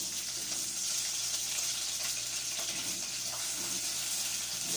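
Potatoes frying in a pan for a saluyot dish, a soft, steady sizzle with faint crackle running evenly throughout, quiet and close.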